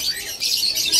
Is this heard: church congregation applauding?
no